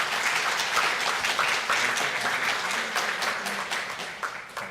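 A lecture audience breaks into sustained applause to welcome the alumni art lecturer, Chris Thomas: dense, steady clapping that fills the room and tapers slightly near the end, with no talk over it.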